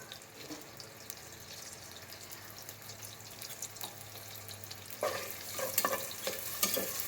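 Onion frying in a generous amount of oil for a dried-fish and eggplant curry, a steady low sizzle with stirring scrapes that grow louder and busier toward the end, no voices.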